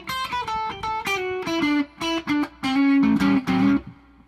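Fender Lead II electric guitar with ThroBak pickups in the middle position, a bright distorted riff of quick picked notes and short held chords, loud and alone.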